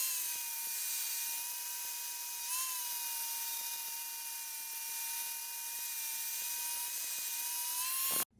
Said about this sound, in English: Fire up the angle grinder and smooth these back and blend them in.